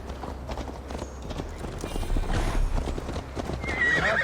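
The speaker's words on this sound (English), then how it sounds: "Mount up, Eivor. It's a long ride to Tamworth." Horses ride with steady clip-clopping hooves in the Viking-era game Assassin's Creed Valhalla, with an occasional whinny; the hoofbeats stay close and continuous, and a faint high tone rises near the end.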